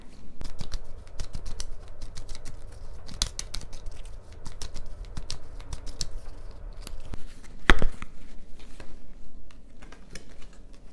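Tarot cards being shuffled and drawn for a reading, dense rapid papery riffling and slapping close up, in irregular bursts with a short pause and a sharper snap near the end.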